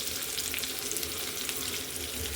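Onions and a bay leaf frying in hot oil for chhola dal with fat, a dense continuous sizzle and hiss, close and steady throughout with no pauses or talking.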